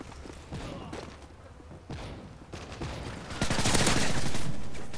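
Rapid gunfire bursts and mechanical clatter from Call of Duty: Modern Warfare 3 multiplayer, loud and dense, building into a heavier sustained barrage toward the end.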